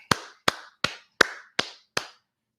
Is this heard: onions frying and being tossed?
no